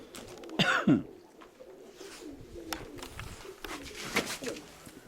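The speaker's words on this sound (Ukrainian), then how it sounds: "Ось такі голуби." Pigeons coo softly in a few short bursts, with scattered rustling and faint background noise between the calls.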